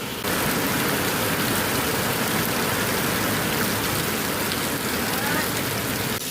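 Sudden heavy rain pours down outdoors near a farm road, a dense, loud, unbroken hiss of downpour that fills the whole stretch with no pauses.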